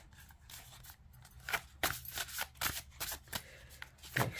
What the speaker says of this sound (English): let me give these cards a shuffle.